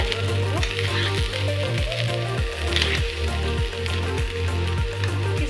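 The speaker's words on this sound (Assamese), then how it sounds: "এইখিনি ভালদৰে ভাজিব লাগিব।" Soaked, drained rice for veg pulao fries in a pot with a constant close sizzle, broken by repeated, evenly spaced scrapes of a spoon stirring against the metal.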